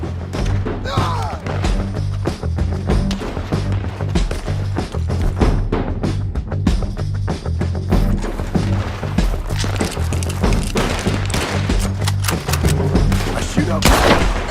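Rapid, dense gunfire crackles through a Red Dead Redemption 2 shootout, shots overlapping into a continuous loud fusillade, with shouting voices now and then amid the noise.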